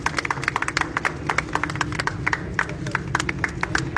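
Applause at the opening of a new pigeon club shop, a small crowd clapping steadily and unevenly with sharp, close hand claps and no talking.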